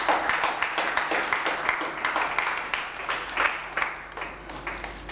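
Audience at a book launch breaking into applause, a lively run of many hands clapping with uneven swells and a few sharper individual claps, fairly close.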